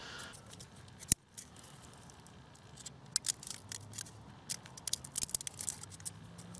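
Scissors cut through a thin sheet of aluminum, giving a sharp snip early on and then a cluster of crisp, scratchy metallic snips, close and fairly quiet.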